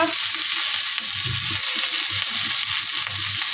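Potato and bori curry frying and sizzling in a pan, a steady close hiss with faint stirring clatter running the whole time, no voices.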